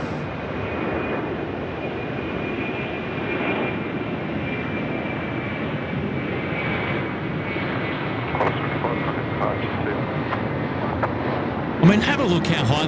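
Qantas jet airliner taking off from Sydney Airport at night, bound for Haneda, a steady distant engine roar sustained throughout, with a thin whine and a brief louder burst near the end.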